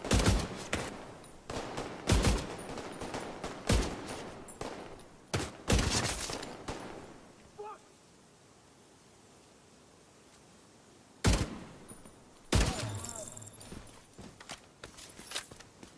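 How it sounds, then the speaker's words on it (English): Binary-trigger rifle in The Division firing in short, sharp bursts, each trigger pull and release giving a paired crack. The shots come in clusters, separated by a long quiet stretch of several seconds, with a distant gunfire echo in the game. "Binary trigger means one fire on pull, one fire on release"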